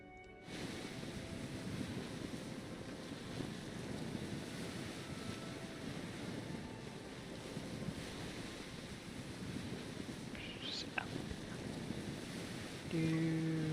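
A waterfall in the Prehistoric Kingdom video game rushes steadily, a broad, continuous roar of falling water that holds at an even level throughout, with a brief chirp near the end and no speech.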